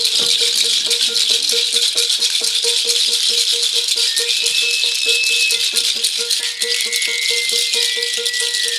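A loose nut rattles around in the bottom of a boat, a loud, fast and steady metallic clatter that goes on without a break, with thin squeaky tones over it now and then.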